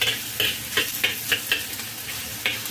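Ingredients for lotus root soup sauté in a hot pan with a steady sizzle, broken by repeated scraping stir strokes at a quick, uneven rhythm, close and moderately loud with no talking.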